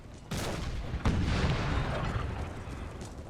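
Cannon artillery fires in an Empire Total War battle: two heavy booms hit close together, then a loud, rolling roar of fire trails off without talk.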